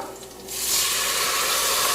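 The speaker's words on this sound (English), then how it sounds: "Now to get the flavors in this, I'm going to put some water." Water streams into a cooking pan of golden browned ingredients, starting after a brief pause and continuing as a steady, loud splashing hiss up close, with no one talking.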